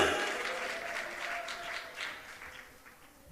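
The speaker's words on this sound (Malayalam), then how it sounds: "കൈയടിച്ച് പറ, ശക്തിയോട് പറ" A church congregation claps hands during a sermon, a continuous crowd of clapping with some voices mixed in, starting louder and easing off slightly before rising again.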